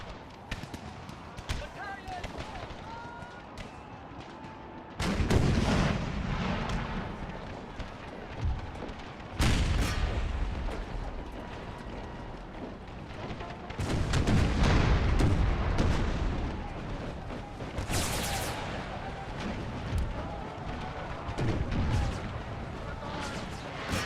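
Cannon artillery in an Empire: Total War battle booms repeatedly in heavy, irregular blasts, each followed by a rumbling decay, while a voice talks over the gunfire.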